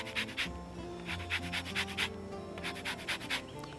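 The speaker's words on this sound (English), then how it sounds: "I will grate 2 lemons" Lemons being grated for zest, a rhythmic dry rubbing in short bursts of a few strokes each, close and fairly quiet, over a background of soft music.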